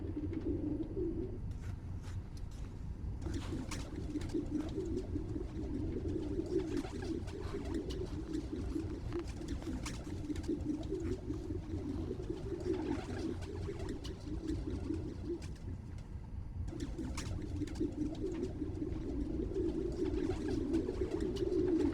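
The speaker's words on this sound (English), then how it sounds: "There's a lot of birds around here." Pigeons cooing in a park in the video game Spider-Man Miles Morales, a continuous low, soft, rolling coo that pauses briefly and resumes, with faint ambient background and no talk.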